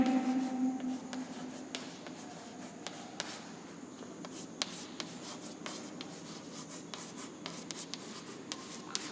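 An equation for a physics lesson on dimensional formulas is written out by hand, with faint, close, continuous scratchy strokes and small taps against a quiet background and no talk.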